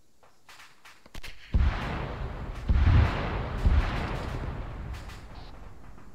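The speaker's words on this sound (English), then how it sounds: "Stuff is exploding up at the castle." Explosions go off at a castle in a war video game, a few heavy booms and sharp cracks rolling into sustained rumbling battle noise at a moderate distance.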